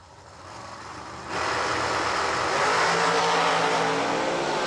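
Drag cars in a bracket race launching down the strip, a broadband engine roar that jumps louder about a second in and then holds steady and loud, with no talk over it.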